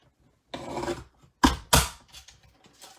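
A paper trimmer cuts a stamped card in quiet surroundings: a brief rasping slide, then two sharp, close scraping strokes of the blade, with faint handling noises afterward.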